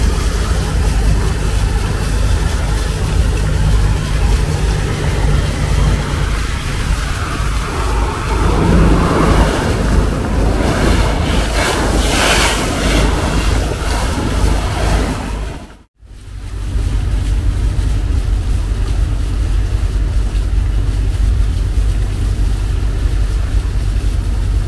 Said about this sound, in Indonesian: Speedboat guys ya, arah milir dari Long Bagun menuju ke Tering biasanya.